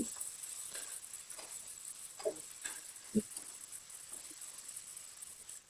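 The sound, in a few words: ginger garlic paste frying with onions in pan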